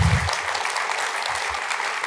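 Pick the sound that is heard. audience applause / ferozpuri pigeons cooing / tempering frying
audience applause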